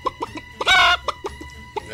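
Chickens cluck in quick, rhythmic bursts close by, and a rooster breaks in with a loud, sustained crow in the middle of the clucking.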